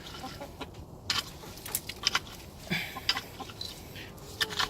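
Chickens clucking softly in a deep litter coop bedded with wood chips, scattered short clucks and calls over a low rustling background, with no talking.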